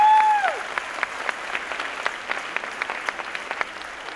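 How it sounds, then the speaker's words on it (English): A crowd at a graduation ceremony gives a steady, moderately loud round of applause after a short electronic tone at the start, the claps fairly even and slightly distant. "I want you to give them a round of applause."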